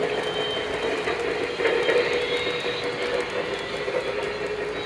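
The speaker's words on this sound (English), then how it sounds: "And while the flat spot sounds pretty mild as of now, it only worsens." A continuous rumble of a small Lionel reefer model train car running on track, its flat-spotted wheel making faint rhythmic clunks under a steady whirring drone, close by and fairly loud.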